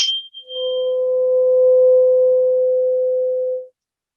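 Tuning fork struck once, a sharp metallic tap followed by a pure, steady tone that holds for about three seconds and then stops abruptly, loud and close with no talking.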